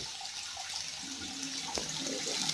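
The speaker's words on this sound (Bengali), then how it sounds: "আমি এখন ঝোল দিয়ে দেব" Broth being poured into a pan of browned pigeon meat curry, a steady liquid pour with a hiss of the hot pan, fairly close and continuous, with no talk.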